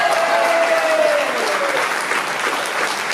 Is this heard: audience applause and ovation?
yes